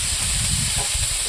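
Chopped potatoes drop into hot oil already frying dried red chillies and whole cumin, giving a steady, loud, close sizzle and hiss throughout with no talk.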